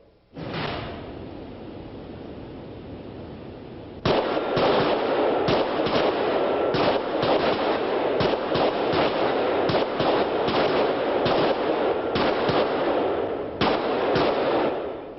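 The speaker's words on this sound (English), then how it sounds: "I want you to draw and fire 6 rounds." Several shooters fire handguns on an outdoor shooting range, six rounds each, a rapid, overlapping volley of loud, sharp cracks close by over steady background noise, following a brief early bang.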